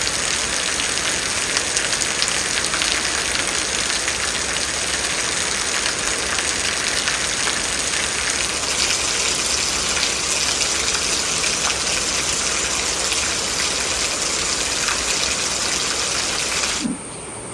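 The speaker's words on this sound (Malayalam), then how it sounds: "പുറത്തിങ്ങനെ മഴ നോക്കി ഇരിക്കുവാണോ അമ്മ മഴ നോക്കി ഇരിക്കുവാണ്" Steady, dense rain falls on a rainy evening at a home in Kerala, a constant broadband wash with no voices that cuts off abruptly near the end.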